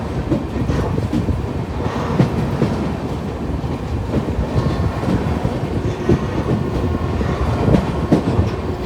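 A moving North East Express passenger train on an Indian rail journey from Anand Vihar to New Alipurduar gives a steady, loud rumble with continuous clickety-clack wheel rhythm, heard close and alone throughout.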